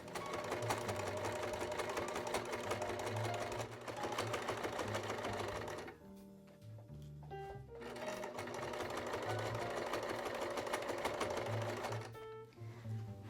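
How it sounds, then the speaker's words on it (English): A sewing machine stitches in the ditch along a quilt seam while finishing the binding on a quilted Christmas stocking. Two long, steady runs are split by a brief stop of light clicks and handling. "I'm going to stitch the ditch along this front seam here and go ahead and finish this binding"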